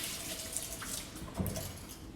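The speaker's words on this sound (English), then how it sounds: "I'm just going to wash my measuring spoons." Tap water runs steadily over measuring spoons being washed in a kitchen sink, a soft continuous splashing with a faint clink near the middle, heard alone without speech.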